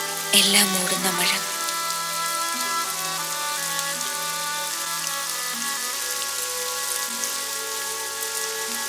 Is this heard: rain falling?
yes